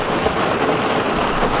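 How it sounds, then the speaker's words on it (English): Heavy rain in a full downpour, a dense, loud, continuous hiss of drops pounding the surface up close. "it's just completely downpouring"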